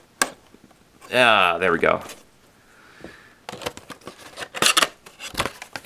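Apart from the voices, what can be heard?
X-Acto knife cutting open packaging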